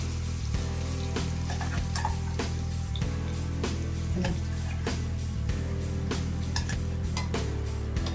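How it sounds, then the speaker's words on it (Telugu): Masala paste frying in oil in a pan for a soya chunk (meal maker) curry, a steady dense sizzle with frequent metal clinks and scrapes of a spoon stirring against the pan, close and continuous with no talk. "ఇలా ఆయిల్లో పేస్ట్ని వేయించేసి వేయించేసిన పేస్ట్ని ఆయిల్లో వేయించుకోవాలి"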